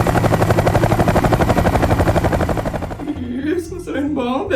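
A helicopter's rotor chops in a steady, loud rhythm for about three seconds, then drops back under a person speaking.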